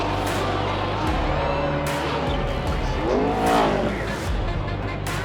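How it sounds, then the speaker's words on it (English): A NASCAR race car at the Daytona 500 skids and revs after a win, with engine pitch sweeping up and down, tire squeal and rough skidding noise over a continuous low roar. "His first win, let's hope he does a mad fucking skid."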